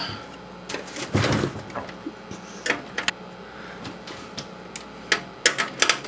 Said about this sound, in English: we are going to pull the CD drive